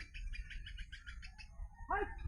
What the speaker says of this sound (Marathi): या पाखर किती छान वरडतील